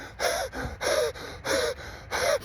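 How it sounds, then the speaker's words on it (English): Fast, heavy breathing like a runner working hard at a six-minute pace, four loud rhythmic gasping breaths in quick succession, close and alone. "you're going to end up breathing like a racehorse"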